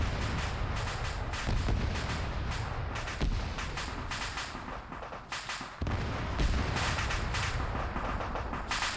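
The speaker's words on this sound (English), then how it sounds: "They were waiting for me up there with a rocket." Rocket fire and explosions in a tactical multiplayer shooter ship-sabotage mission, with dense, continuous loud blasts and gunfire rumbling through the whole stretch, punctuated by sharp bursts near the start and middle.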